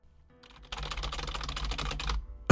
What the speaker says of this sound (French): Le bruit de vos touches de clavier.